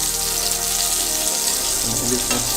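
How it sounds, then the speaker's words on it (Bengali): Hilsa fish coated in turmeric fries in a pan, giving a loud, dense, continuous sizzle heard up close with no talking. "মাছটা হলুদ দিয়ে দিই আচ্ছা, আমরা হালকা করে ভেজে দেবো"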